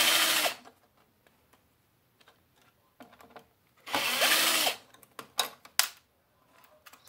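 A power screwdriver backs screws out of an RCA TV power board, giving loud, close whirring bursts at the start and middle, then shorter buzzes, with small clicks and handling noise in between.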